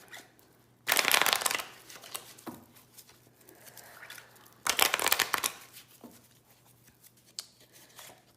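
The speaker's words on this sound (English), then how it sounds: "Let's get a few more good shuffles in." Two bursts of playing cards being riffle-shuffled, a few seconds apart, with light card handling and soft taps in between.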